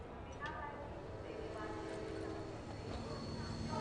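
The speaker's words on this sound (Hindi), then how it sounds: "यही ट्रेन जाती है लखनऊ" A train bound for Lucknow rolls past with a steady low rumble and clatter, continuous and fairly near throughout, with faint voices in the background.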